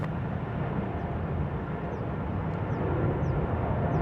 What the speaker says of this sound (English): There goes KLM 282 back to Amsterdam, 777-200 ER.